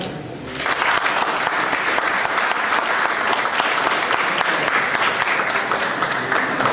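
After a quiet half second, an audience at a Spanish-language legal forum bursts into loud, sustained applause for a lawyer who chaired a law-drafting commission, keeping a steady roar of clapping to the end.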